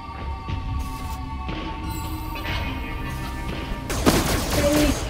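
Gunfire from the VR horror game Five Nights at Freddy's: Help Wanted 2 comes as a loud burst near the end, after a stretch of low humming and throbbing game ambience.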